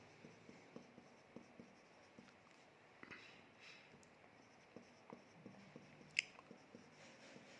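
Pen writing on paper, close and quiet, with short scratchy strokes and small taps in an irregular rhythm, mostly alone with a faint background hiss.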